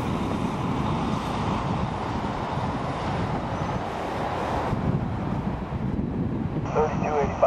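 An Air Tahiti Nui Airbus A340-313X gives a loud, continuous broadband jet roar with wind buffeting, while faint air traffic control radio voices talk over it.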